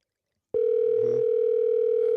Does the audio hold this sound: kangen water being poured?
no